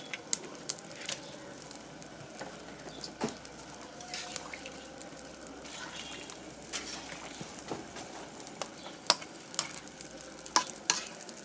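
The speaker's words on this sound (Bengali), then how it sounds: "এখন আমি মাছ দিয়ে দেবো।" Tilapia pieces go into a pan of simmering papaya curry and are stirred, giving a steady soft sizzle and bubbling with scattered scraping taps of the spoon throughout, close and moderately loud, with no talk.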